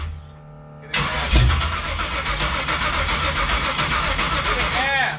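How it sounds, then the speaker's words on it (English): A carbureted Chevrolet Nova engine cranks and catches, then runs and revs unevenly for several seconds, loud and close, with people talking over it. "Give it gas. It's a carburetor. Keep it running."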